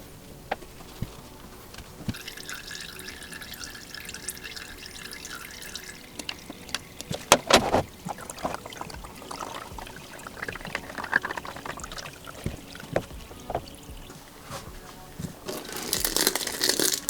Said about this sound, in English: So let's get the oil dropped out of it